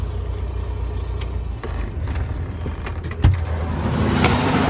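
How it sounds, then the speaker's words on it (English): A Volvo tractor truck being shut off in extreme cold, minus 35, after an interrupted regen: a steady low engine rumble runs near and loud, with a brief clunk partway through and the drone continuing to the end. "We're going to shut the vehicle off."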